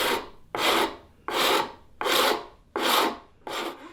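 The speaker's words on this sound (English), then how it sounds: "and then I go with the saw rasp, which is not a rasp and it's not a saw." A saw rasp files a wooden corner round on a simple bookcase, six long, even rasping strokes at a steady rhythm, close and clear with quiet pauses between and no talking.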